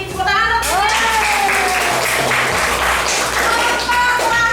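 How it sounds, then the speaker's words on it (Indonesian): Classroom applause from a group of students, a dense burst of clapping running throughout at steady loudness, with a voice speaking over the start and children's voices mixed in. "Tepuk tangan."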